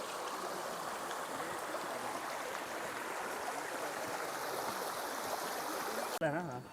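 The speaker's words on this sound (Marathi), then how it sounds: "हा दुसरा धबधबा लागला ॲक्च्युली" A waterfall-fed stream in the Andharban jungle rushes in a steady, close, even wash of water, ending in a brief handling noise.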